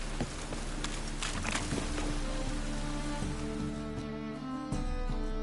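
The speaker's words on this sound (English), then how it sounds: "Rain again." Rain falls steadily in The Witcher video game, a constant hiss of drops with faint ambient tones underneath and no talking.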